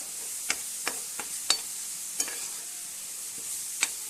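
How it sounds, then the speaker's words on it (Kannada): A pan mixture of onion, garlic and curry leaves stirred with a spoon, giving several sharp scrapes at irregular intervals over a soft, steady sizzle, close and fairly quiet with no talking. "ಇದನ್ನು ಚೆನ್ನಾಗಿ ಮಿಕ್ಸ್ ಮಾಡ್ಕೋಬೇಕು"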